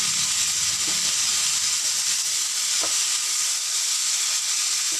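A loud, steady hiss of orange peel frying with turmeric in a hot pan, with a couple of faint stirring scrapes underneath.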